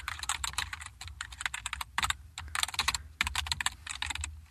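JavaScript code typed steadily on a computer keyboard, with dense continuous clacking interrupted by a few brief pauses and heard up close with no voice.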